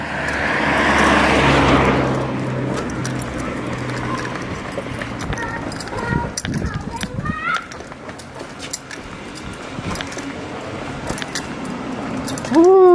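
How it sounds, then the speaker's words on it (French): Cars pass on a street, with a loud close whoosh of a passing vehicle in the first two seconds, then quieter traffic rumble, scattered footsteps and clatter, and voices nearby. "Attention, les voitures."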